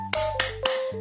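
Children's rhythmic 'tepuk semangat' spirit clap in a second-grade primary school lesson: three sharp, evenly spaced claps sound close and crisp over a faint steady tone.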